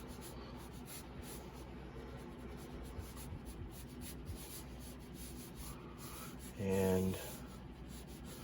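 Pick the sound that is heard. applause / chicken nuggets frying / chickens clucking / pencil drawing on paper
pencil drawing on paper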